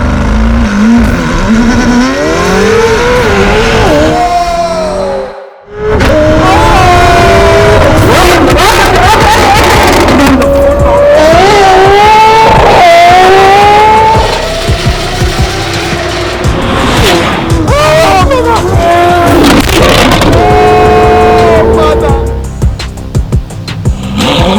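Loud and close, a 1000hp McLaren 720S fitted with a Novitec exhaust accelerates repeatedly, its engine note sweeping up through gears with a brief lift between pulls, while people talk over the engine at times.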